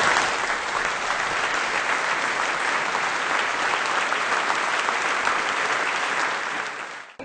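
A concert audience at a new-music festival breaks into loud, dense applause that carries on steadily for several seconds before tapering off at the end.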